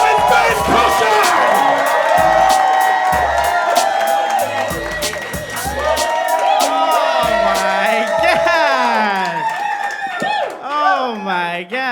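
A comedy club audience at a stand-up show cheers, whoops and shouts loudly for a comedian taking the stage, sustained for about twelve seconds with high hollering voices and cries rising over the roar.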